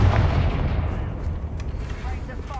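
The Confringo spell explodes in the video game Hogwarts Legacy with a loud, booming blast. A rumbling tail follows and slowly decays over a few seconds, with crackling bursts scattered through it.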